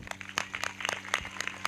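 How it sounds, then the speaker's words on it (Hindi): Scattered hand clapping from a congregation at a Sunday church service in Chandigarh, quiet and uneven, with a few sharp claps in a loose, irregular rhythm. "जिनको अच्छी लग रही है वो ताली बजा रहे हैं।"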